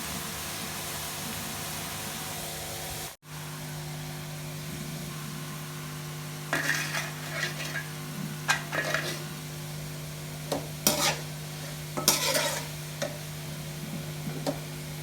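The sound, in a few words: stirring arvi and mutton frying in a pan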